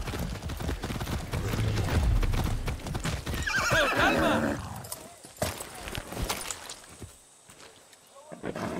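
A horse in the Far Cry 6 video game gallops with a rhythmic clip-clop of hooves, then lets out a loud, close whinny. The sound fades into quieter game ambience with scattered background noise.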